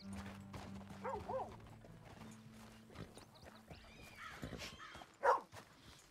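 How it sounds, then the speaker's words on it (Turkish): A dog barks once, loud and near, amid open-world ambience in the Red Dead Redemption 2 video game, with horse hooves clip-clopping and faint animal calls in the background. "Lan tamam, bir havlayıp durma sen de."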